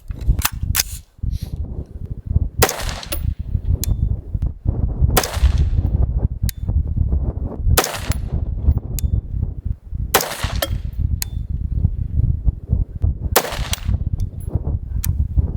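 AR-15 rifle shots firing Federal premium Sierra Match King 77 grain ammunition at a shooting range, a series of sharp loud cracks spaced a few seconds apart over steady background rumble.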